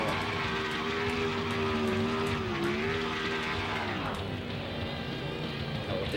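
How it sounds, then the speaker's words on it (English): Stock car burnout in NASCAR Thunder 2003 at New Hampshire: a steady, loud engine roar with tyre squeal and hiss held at a constant pitch throughout, the tone dipping and shifting near the end, with no voices. "Try to see how far we can burn this thing out."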